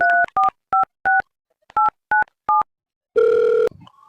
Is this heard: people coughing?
no